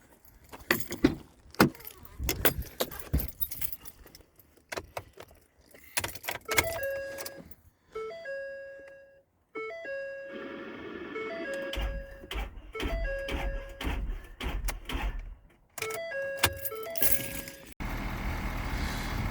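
A truck with newly installed batteries is cranked: metallic clicks and jangling keys, then repeated starter whirring in short tries, with a louder engine rumble near the end.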